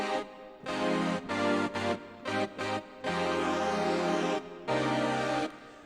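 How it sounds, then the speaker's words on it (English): An airy, high-passed future pad from Ableton Operator, laced with fluttering white noise, plays sustained chords that stop and restart in short and long stretches, steady and fairly soft, with no voices. "airy sort of high pass quality that you can hear all that white noise kind of fluttering around"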